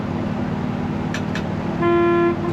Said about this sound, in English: Factory horn is working.